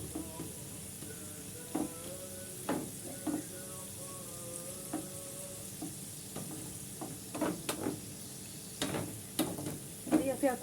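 Chicken shawarma sizzles steadily in a pan while it is flipped and stirred, with scattered scrapes and clinks rising over the low frying hiss toward the end.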